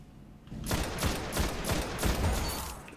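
Gunfire in Destiny: a rapid string of sharp, evenly spaced shots, about six or seven, after a quiet start, loud and close, with no talk over them.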